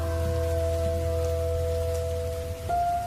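Heavy rain pours steadily at night by a small roadside shop near a jungle, a dense unbroken hiss with a low rumble beneath and faint steady tones running through it, with no voices.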